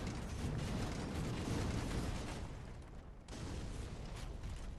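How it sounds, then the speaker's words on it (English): Fire bombs exploding in the Dark Souls 3 video game make a dense, loud run of booming, crackling bursts that dip briefly near the end before swelling again. "let's chuck some more fireballs at him"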